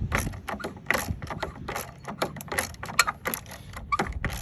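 Socket wrench on a long extension turning out a bolt on a 2012 Fiat 500's battery hold-down block, a rapid run of close, crisp ratcheting clicks in uneven bursts.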